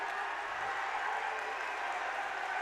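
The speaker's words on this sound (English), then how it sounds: "the crowd is going crazy right now" A basketball game crowd, Greenville at Eureka, cheers and claps in a gym, a steady broad roar of noise at moderate distance with no clear talk over it.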